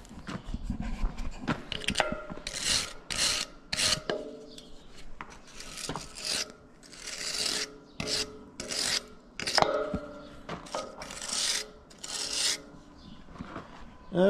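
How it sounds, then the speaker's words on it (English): A wire brush scrubbing packed dirt out of bolt threads on a Case 490 disk wing, a series of quick, close rasping strokes in uneven bursts. "Take a wire brush, clean out those threads."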